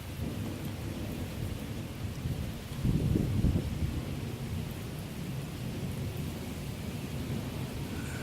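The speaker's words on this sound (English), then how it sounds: "Lightning bolts everywhere, high winds, heavy rain." A monsoon thunderstorm at Lake Havasu brings steady heavy rain and wind, with a deep rolling thunder rumble swelling up near the three-second mark before the downpour carries on alone.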